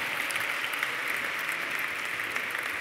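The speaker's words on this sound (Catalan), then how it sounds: "Que tornin a pujar els aplaudiments" Steady, dense applause from a crowd at a university graduation ceremony, a continuous even wash of clapping held at moderate distance for a few seconds.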